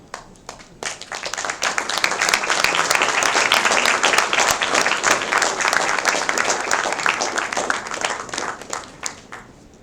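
An audience applauds the panelists and moderator at the close of a panel discussion at the 25th D.M. Harish Moot 2024. The clapping is dense and sustained, building quickly and holding steady for about ten seconds before tapering slightly.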